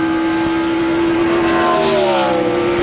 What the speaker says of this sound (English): you hear him floating the throttle